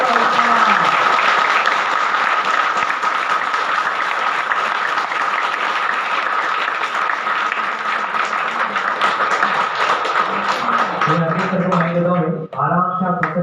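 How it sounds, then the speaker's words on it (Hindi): Loud, sustained applause from a large audience of students at an eSaral coaching session, a dense steady roar of clapping lasting throughout, with a voice speaking near the end. "चलिए तो यार एक बार जोरदार तालियां हो जाए।"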